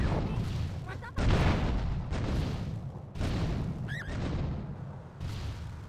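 Heavy, booming gunfire blasts at vehicles at a busy intersection in GTA3, arriving in repeated dense bursts with loud rumbling impacts throughout.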